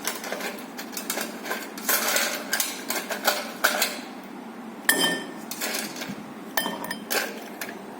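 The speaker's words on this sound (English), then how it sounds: "So you will put as much as ice as you can." Ice cubes drop one after another into a whiskey glass, giving a run of sharp, close glassy clinks and knocks at an irregular pace as the glass fills, with no talking.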